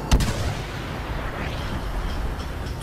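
A sniper shot rings out in the Star Wars Battlefront video game, one sharp loud crack near the start followed by a steady low rumble of battle ambience.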